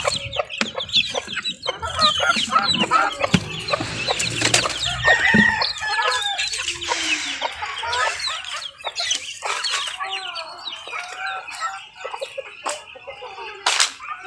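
Chickens and chicks being fed in a backyard pen, with busy overlapping clucks and peeps close by and a rooster crowing partway through.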